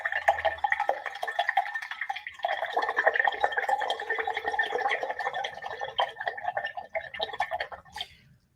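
A paintbrush is swished and rinsed in a water jar during an acrylic painting session, giving a steady wet sloshing and dripping that runs for several seconds before trailing off, with no talk over it.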